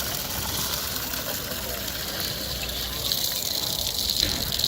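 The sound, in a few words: water from fountain filling a cup for hand washing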